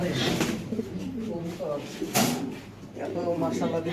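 A Lakkha pigeon gives soft coos nearby, partly buried under someone talking over them.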